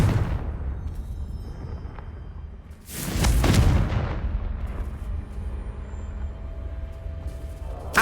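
A Confringo fire spell explodes in Hogwarts Legacy, a loud broadband burst about three seconds in that rumbles and decays over a low, steady game background.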